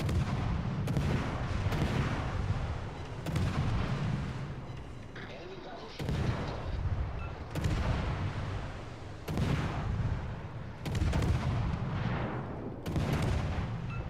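In the World of Warships: Legends game, warship guns fire in repeated heavy booms about every one to two seconds, each followed by a rumbling tail, with someone talking over them at times.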